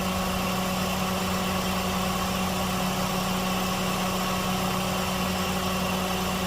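A stock 2005 Toyota Vios 1.5 S with the 1NZ 1,500 cc VVTi engine idling, a steady, even mid-pitched hum with a smooth unbroken drone throughout and no voices.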